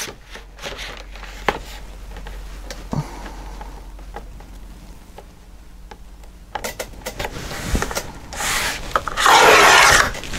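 Scissors or a paper trimmer cut paper into long white strips for a mini album craft project, with soft rasping and rubbing strokes that build to a louder, dense cutting sound near the end.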